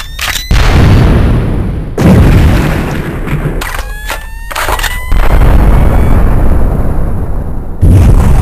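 Loud, close video-game explosions with heavy booming blasts and rumble, several bursts in sequence with brief gaps, alone without talk.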